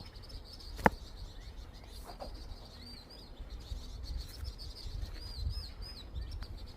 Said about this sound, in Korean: 맑고 맑은 소리로 고운 노래 불러주는 이름 모를 새들 고마워요.